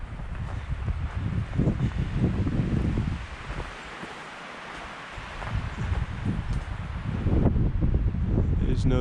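Wind blowing on a mountain trail in Deer Creek Canyon, strong gusty rushing that buffets the microphone, easing briefly midway before surging louder again.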